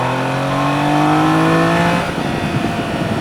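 A 2024 Triumph Daytona 660 motorcycle pulls hard in fourth gear from 70 to 100 on the road, its engine note climbing steadily in pitch, then the throttle shuts and rushing wind noise takes over.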